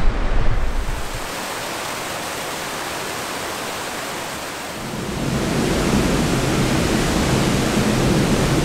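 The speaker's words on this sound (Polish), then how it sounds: "Ale patrzcie na ten piękny ocean. Nie jest dziś spokojnie." Broad roaring wash of rough ocean surf rolling in on the Japanese coast on the 88 Temple pilgrimage, loud and unbroken, swelling stronger midway with a constant wind-like rush.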